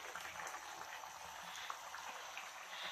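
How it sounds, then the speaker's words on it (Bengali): Fish curry bubbling in a pot on a home kitchen stove, a soft continuous hiss and fizz of simmering liquid with faint popping, steady and fairly quiet throughout. "আর এখানে হচ্ছে ঝোলটা ফুটছে"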